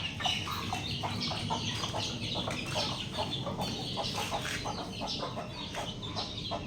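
Several chickens cluck steadily close by, a mother hen among her chicks, with a dense layer of soft peeping and fowl calls running continuously throughout.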